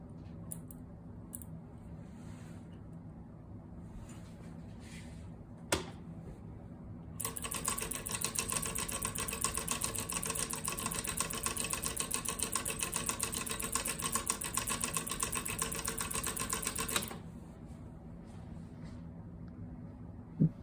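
A small 3D-printed solenoid motor with a CD as its flywheel and a photo interrupter instead of a micro switch, running as a rapid, even clatter of ticking strokes that starts abruptly, continues for about ten seconds and then stops, with a few isolated clicks before and after.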